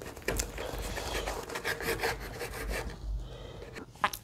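A knife saws through a soft bakery bread roll in repeated rough rubbing strokes at close range, then pauses before a final sharp rustle.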